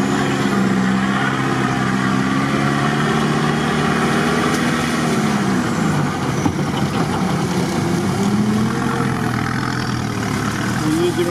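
Engine of a Mercedes-Benz M-class W163 off-road car driving, a loud, steady rumble with a low drone and shifting tone as it moves, heard close from inside with occasional voices.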